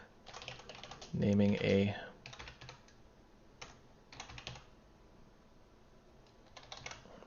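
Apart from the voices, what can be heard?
computer keyboard typing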